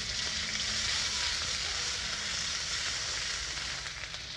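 Garlic paste and whole spices fry in hot oil in a wok, giving a steady, close, loud sizzle that holds evenly throughout with no voices.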